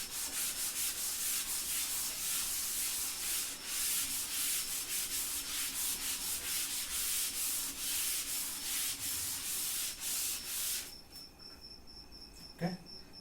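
Steady scratchy rubbing of a diagram being erased from a board, continuous with rhythmic strokes for most of the stretch, then stopping; quiet and close.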